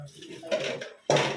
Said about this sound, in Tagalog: Shout out sa naghuhugas ng pinggan.